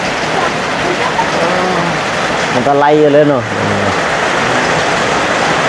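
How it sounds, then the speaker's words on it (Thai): Rain falls steadily on a coffee plantation in southern Laos, a continuous broadband hiss running through the whole stretch while someone talks over it. "บัดนี้ฝนมาแล้ว"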